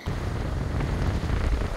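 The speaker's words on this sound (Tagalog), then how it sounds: "Hangin kaya." Steady gusty rumble of autumn wind buffeting the microphone near a lighthouse in Busan, loud and unbroken for a couple of seconds.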